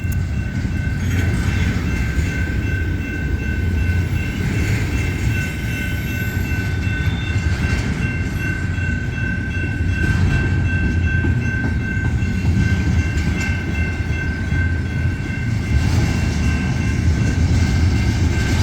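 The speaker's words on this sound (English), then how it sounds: "We got a train." A loud intermodal freight train rumbles past continuously at a railroad crossing with clattering wheels and a steady high ringing tone from the crossing bell, close and sustained.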